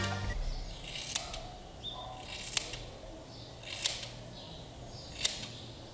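Scissors snip through hair while it is combed and cut at home for a women's undercut. Four or five sharp, close snips land at irregular intervals over a quiet background, with no talking.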